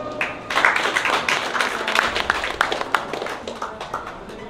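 A modest audience at an award ceremony for an artists' invitational exhibition in Yongsan claps briefly. The hand claps are distinct and close, swell quickly, then thin out toward the end.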